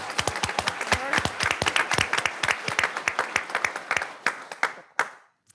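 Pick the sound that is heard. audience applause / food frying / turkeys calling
audience applause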